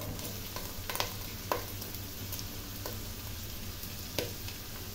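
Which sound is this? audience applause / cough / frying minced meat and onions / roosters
frying minced meat and onions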